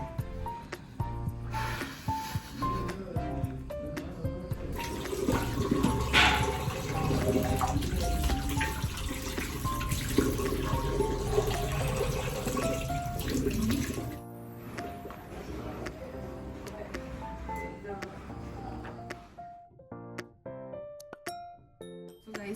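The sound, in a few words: running water while washing hair with shampoo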